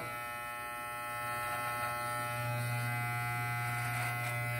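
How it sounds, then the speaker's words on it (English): An electric beard trimmer buzzes steadily and close up while shaving along the neckline of a beard, holding a constant hum the whole time with no talking. "shave the neckline, clean it up"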